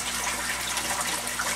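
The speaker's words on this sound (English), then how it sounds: "slowly add some water from the tank as well" Water from a fish tank is added slowly to a container holding new rainbow trout in a basement, producing a steady, continuous splashing gush that stays close and fairly loud throughout.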